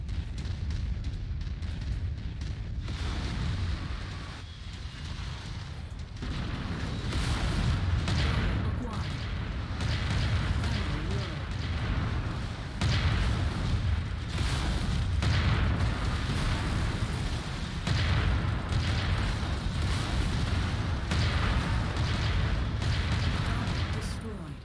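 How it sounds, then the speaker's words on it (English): Repeated gunfire and heavy explosions from enemy mechs in the video game MechWarrior 5 run loud and dense throughout, with booming blasts layered over steady combat noise and occasional talk. "I think someone's shooting me from behind."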